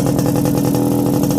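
Restored Yamaha RX100 two-stroke motorcycle engine revving, a loud, close, buzzy rattle with quick even pulses and a steady drone, heard alone without speech.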